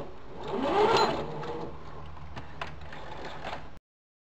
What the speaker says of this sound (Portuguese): Eu vou passar uma costura à máquina nos braços e nas pernas.